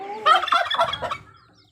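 A turkey gobbles once, a loud rapid warbling burst up close, then fades to quiet.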